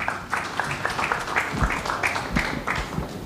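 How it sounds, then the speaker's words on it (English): A brief burst of audience applause at a closing-remarks session, steady overlapping claps filling the short stretch at moderate loudness with no voices over it. "give Obed a big round of applause"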